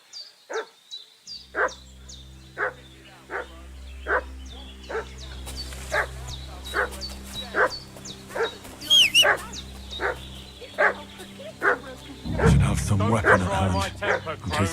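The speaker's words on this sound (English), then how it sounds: "What's that dog making such a fuss about?" A dog in Kingdom Come: Deliverance II barks repeatedly in a steady, evenly spaced rhythm, loud and near, over a low game ambience, with game voices speaking and a busier burst of sound near the end.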